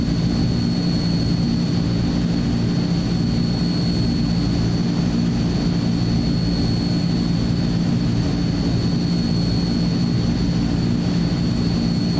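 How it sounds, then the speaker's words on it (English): Simulated Azurpoly C-160 turboprop transport in Microsoft Flight Simulator 2024, engine 2 spooling up: a loud, steady turbine roar with high whine tones and a low propeller drone, continuous and close, with no talk. "Alright, engine 2 is coming up. Let's actually close it because it is very loud."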